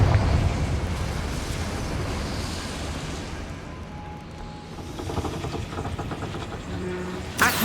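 Fiery spell explosion in Hogwarts Legacy, a heavy rumbling blast that rolls on and slowly fades over several seconds, then a sharp new burst right at the end.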